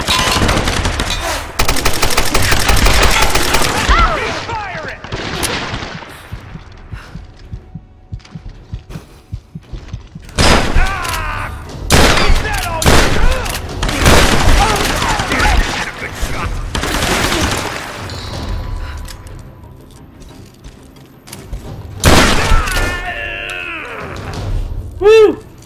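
Grenade launcher blasts and gunfire erupt in Tomb Raider (2013), loud bursts of explosions and rapid shots arriving in several clusters separated by quieter gaps, with close, heavy impacts.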